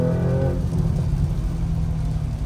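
An Audi RS4 B9 fitted with Dynaparts parts and 21-inch wheels, its engine floored from warm with the exhaust in open mode: a rising note swells briefly, then settles into a loud, steady, deep roar close by with no talking.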